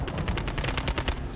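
A rapid run of gunshots from a Call of Duty Modern Warfare 3 match, close and loud, about a dozen evenly spaced shots in just over a second.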